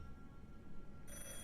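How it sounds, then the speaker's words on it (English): A telephone rings in the video game Beholder 3, a clean electronic bell ring over a low game background hum that shifts partway through, heard alone without voices. "There we go, answer the phone."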